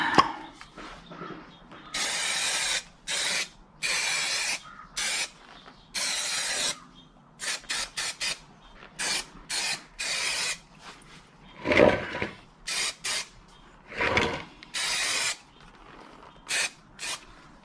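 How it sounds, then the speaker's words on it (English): 3M Super 77 spray adhesive hisses from an aerosol can onto a taped-off box for Cobra Daytona door inserts, in a run of sharp, close bursts of varying length separated by short pauses, with a few clunks of handling in between. "so now we'll shake up our 3M Super 77"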